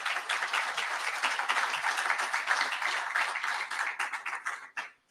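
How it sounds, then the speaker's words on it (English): An audience claps for police sergeant Steve Carbajal of Tempe in a loud, dense round of applause that holds steady, then thins into a few scattered claps and stops abruptly. "Let's give him a round of applause, ladies and gentlemen"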